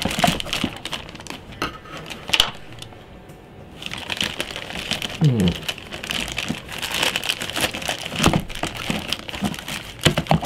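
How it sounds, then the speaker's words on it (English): Plastic packaging on an Xbox One Day One Edition crinkles and crackles steadily up close as it is cut away, with snipping and rustling handling noises and a brief low voice partway through. "Might be best to cut the plastic away."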